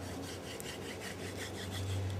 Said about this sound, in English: and then use the hand drill